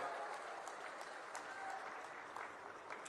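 Steady crowd applause welcomes cooperation minister Amit Shah at a large gathering in Chittorgarh, Rajasthan; continuous, dense clapping from a big audience heard at a distance, even in level throughout.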